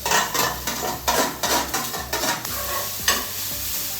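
Grated coconut is stirred and roasted in a pan for a no-oil chicken curry, with repeated scraping strokes of a spoon against the pan over a soft, steady sizzle.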